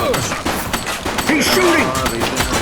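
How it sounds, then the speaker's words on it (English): Gunfire in The Precinct video game: rapid bursts of shots and thuds crack out near and loud, with shouting voices and a wavering siren-like tone mixed in. "He's shooting!"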